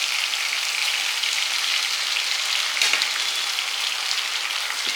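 Coriander and mint fry for a biryani gravy in a constant, even, rain-like sizzle. It is close and moderately loud throughout, with no voices.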